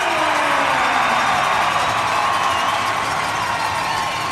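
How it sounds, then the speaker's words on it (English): Hockey arena crowd roaring steadily during a fight between players in a minor-league game, a loud continuous wash of cheering and shouting throughout with no clear breaks. "You can hear the crowd."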